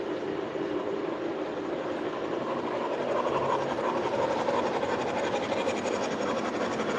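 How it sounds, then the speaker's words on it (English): A train passing close by, with a steady loud rumble and hiss of rail cars that holds for the whole stretch and swells slightly toward the end. "when you're like right next to the train or just when it's going by, you could just feel this thing working and just hear it"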